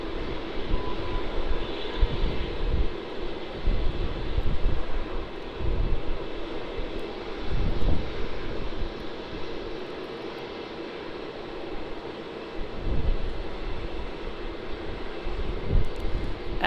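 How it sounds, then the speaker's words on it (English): Rex Boeing 737-800 taking off at Melbourne Airport, a broad jet roar rising and falling in pulses at a moderate distance. "About to take off here, ZL26. A Rex 737-800. Departing to Sydney."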